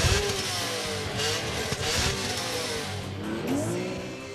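A BMW 3.2 litre inline six-cylinder engine of 343 horsepower, redlining near 7900 rpm, revs loudly and continuously, its pitch rising and falling as it climbs through the gears, with no voices over it.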